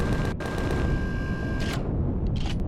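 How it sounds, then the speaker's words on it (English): Ship weapons fire in Empyrion Galactic Survival: dense, continuous booming and crackling gunfire with sharp bursts near the start and end, loud and close, no talk. "another one is also shooting at us"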